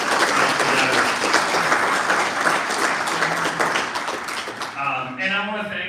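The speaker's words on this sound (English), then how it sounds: "a round of applause for Fred" Audience at a Hall of Fame induction ceremony applauding in a loud, dense, continuous patter that gradually thins, with a voice beginning to speak as the clapping fades.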